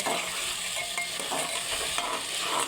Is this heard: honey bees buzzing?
no